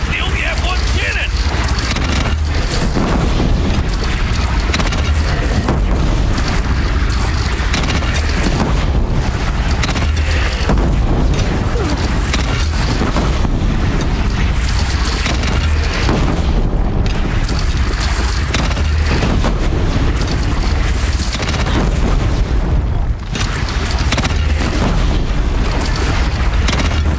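Cannon fire and explosions from a bandit clan's single cannon in a PS4 video game, a dense continuous roar of booming blasts and rumble lasting throughout at high volume, with a voice talking over it.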